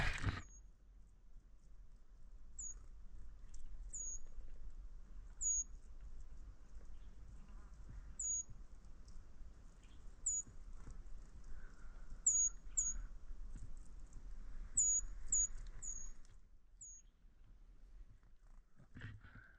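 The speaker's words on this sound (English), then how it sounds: "Pretty little bird." A small bird outdoors chirps about a dozen short, high, faint calls spread unevenly over a very quiet, still background.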